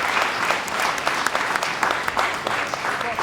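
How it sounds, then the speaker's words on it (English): An audience at a student business pitch competition claps steadily, a moderately loud, continuous patter of many hands with sharper individual claps poking through, and a voice faintly under it. "Let's give it a applause."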